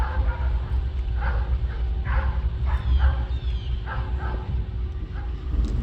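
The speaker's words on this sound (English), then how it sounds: "Somebody better tell those barking dogs" Several dogs bark near a railroad spur: a run of short barks and yips at a moderate distance over a steady low rumble, with no voices.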